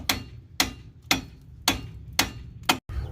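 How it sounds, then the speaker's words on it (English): Six sharp metallic hammer blows driving bolts into a 2000-2007 Chevy Impala front strut, at an even pace, each ringing briefly before the next strike, close and loud. "take the hammer and drive them in"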